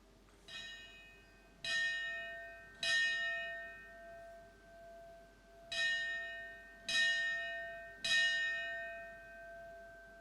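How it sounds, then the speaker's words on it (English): A fire department honor guard rings a ceremonial bell at a fire academy graduation, six clear resonant strikes in uneven pairs with long ringing decay between them, alone in a quiet hall. "Honor Guard, please ring the bell"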